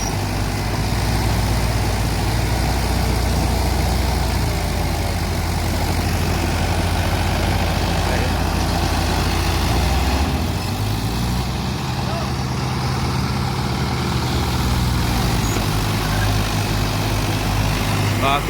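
A tractor engine labors hard trying to climb a steep slope, a loud, steady low rumble running throughout with a shift in pitch midway as it strains.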